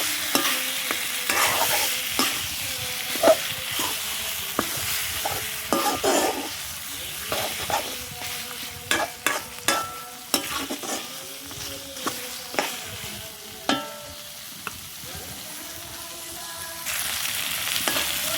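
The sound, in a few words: chicken meat sautéing in spices in a pan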